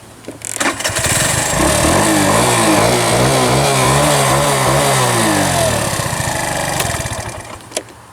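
A cheap scooter fitted with a big bore kit starts and runs, its small engine puttering then revving up and down in a loud, close, buzzy drone for several seconds before settling back toward idle, with no talking.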